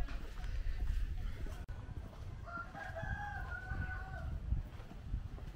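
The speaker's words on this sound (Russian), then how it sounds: "Куры." Chickens call amid outdoor background noise in a Thai village, with a drawn-out rooster-like crow rising in the middle, fairly distant and moderately loud.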